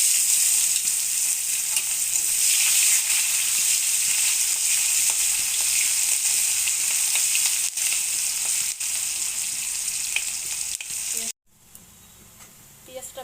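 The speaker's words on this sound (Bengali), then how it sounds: "মাছ ভাজা তেলতে পেঁয়াজটা দিলাম" Onion fries in the oil left from frying katla fish, a steady bright sizzle with occasional stirring clicks, close by, cutting off abruptly near the end.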